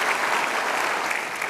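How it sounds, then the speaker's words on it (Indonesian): Studio audience applause on the Indonesian talk show Mata Najwa, a brief, dense, even burst of many hands clapping with no talk. "Luar biasa, kita kasih tepuk tangan."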